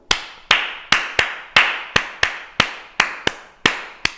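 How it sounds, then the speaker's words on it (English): Hand claps repeat in a steady rhythm, about ten sharp claps roughly half a second apart, close and crisp with a short room echo after each. "Can you start a hand clap for our group?"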